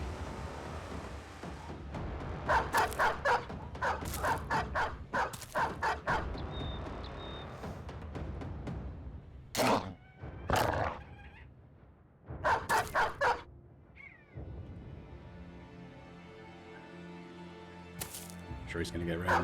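Dog in the video game Battle Brothers barking in repeated bursts of sharp barks and yips, close and loud, with someone talking between the bursts and game sounds underneath.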